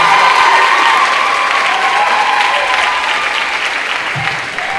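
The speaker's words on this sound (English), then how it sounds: "Y'all clap it up for our coaches." Dense, loud audience applause with some cheering at a signing day event, steady sustained clapping from a large crowd that tapers slightly toward the end.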